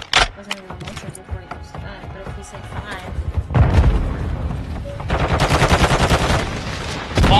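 Light machine gun fire in a video game rattles out in rapid bursts, with loud sustained volleys toward the end, while a player talks over the action.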